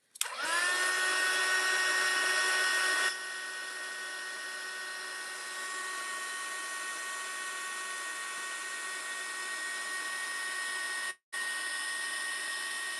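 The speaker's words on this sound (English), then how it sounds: "I'll put my heat gun on it for a second." A heat gun blows steadily on a craft junk journal page, a loud continuous whirring hiss that drops slightly in level after a few seconds and cuts out for an instant before resuming, with no talking.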